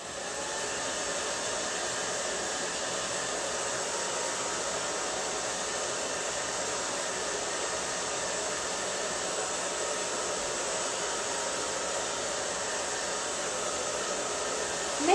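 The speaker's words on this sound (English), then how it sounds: "And then go ahead and blow dry it again." A handheld hair dryer blows continuously for about fifteen seconds, a loud, steady, close-up whoosh with no voices and no change in pitch.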